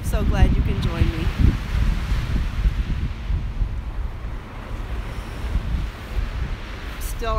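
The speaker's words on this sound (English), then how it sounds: "let's just enjoy the sound of the waves." Ocean waves wash steadily onto a beach, a dense broadband roar with wind buffeting the microphone and a brief voice at the start.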